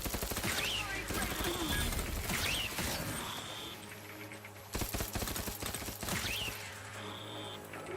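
Rapid SMG bursts from Outer Worlds 2, loud, dense clattering volleys that stop near the midpoint and then start again, with game effects and a voice mixed in.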